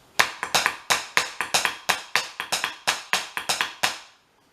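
Sharp, dry drum hits tap out a syncopated repeating habanera pattern, close and crisp, with a few quick doubled strokes, then stop.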